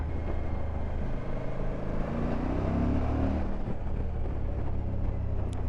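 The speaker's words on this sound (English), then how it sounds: "Wow, this has got a great engine." Suzuki V-Strom 1050 DE motorcycle engine on the road, a steady loud drone that rises in pitch as it accelerates through the middle, with wind noise throughout.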